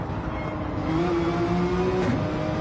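Porsche Cup race car engine from a sim racing game, a steady close drone with a sustained harmonic whine that rises slightly in pitch partway through, loud and alone with no talk.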